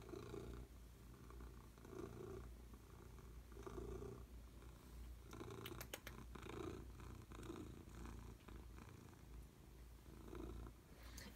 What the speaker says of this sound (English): do you hear that purring?